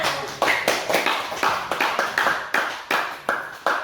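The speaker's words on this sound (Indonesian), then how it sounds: "tepuk tangan buat pengakuannya" A group claps in a steady, fairly even rhythm, each clap sharp and distinct, at moderate volume with no talk over it, during a classroom-style talk.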